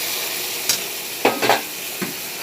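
Chicken sizzling steadily in oil in a pan while being cooked down for korma, with a few scraping stirs of a spoon against the pan cutting through the constant frying hiss.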